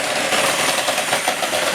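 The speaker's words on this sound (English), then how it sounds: "And then I'm just going to whisk this for 6 minutes" Electric mixer on high speed whisking aquafaba in a bowl for a rye cookie batter, a steady loud whirring drone with slight rhythmic pulsing, running continuously close by.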